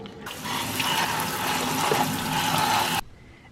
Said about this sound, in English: I have just rinsed off my potatoes